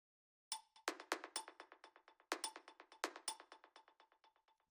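A pair of melodic-techno percussion samples plays together: rapid, clicky ticks in a driving syncopated pattern with sharper accented hits every so often, crisp and alone.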